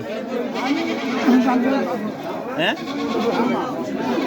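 Goats bleat amid a busy goat market, with wavering animal calls rising over steady crowd chatter and nearby voices talking throughout.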